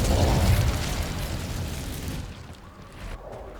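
A fiery Incendio spell blast in Hogwarts Legacy, a loud booming burst up front that rolls and crackles before thinning into a quieter rumbling tail, with no talking.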